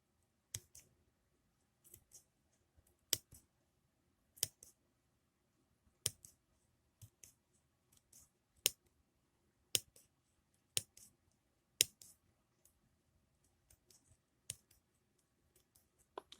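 Scissors snip sharply through pom pom yarn again and again at an uneven, unhurried pace, each crisp cut followed by faint rustling, in an otherwise quiet room.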